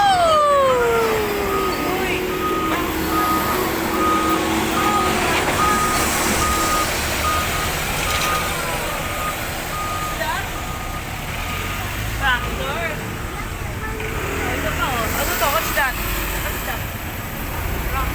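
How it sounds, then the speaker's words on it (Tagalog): A truck rolls along a highway under a loud, constant roar of road and engine noise heard from nearby, while a repeating beeping tone cuts through for a stretch. "Truck."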